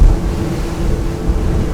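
Saxdor 400GTO boat with twin 350hp V10 outboards under power, a low continuous engine drone mixed with rushing water and wind buffeting on the microphone, steady and close.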